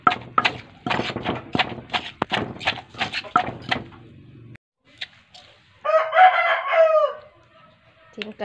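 A rooster crows once at mid distance, a long wavering call that rises and falls, following a stretch of rhythmic pounding and someone talking outdoors.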